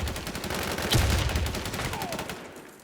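Steady, dense automatic gunfire in the Warzone video game, with rapid shots blurring into a continuous, somewhat muffled rattle and a sharper burst near the middle. No clear talking.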